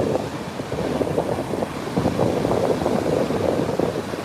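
A small boat powers through ocean waves along a coastline, with steady rushing water, hull slaps and heavy wind buffeting the microphone throughout.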